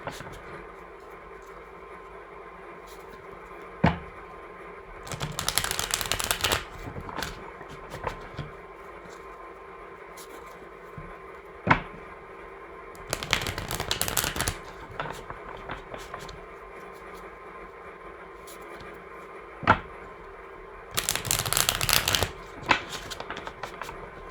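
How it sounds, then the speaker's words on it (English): Tarot cards are shuffled in several brisk bursts, each riffle a loud flutter separated by quieter pauses with faint taps and handling noises. "One more shuffle. Okay, cards are ready."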